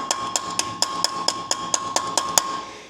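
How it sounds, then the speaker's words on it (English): A soft plastic mallet taps a cap into place during a Ford F-150 IWE repair, about ten sharp, evenly spaced knocks over a steady background hum, close and fairly loud. "We'll tap it in there just like that"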